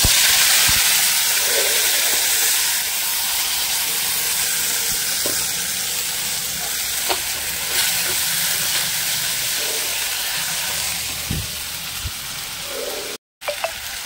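A paste of ginger, garlic and onion hits hot oil for a homemade sweet potato stew, a loud burst of sizzling that settles into a steady hiss with scattered knocks and a brief dropout near the end.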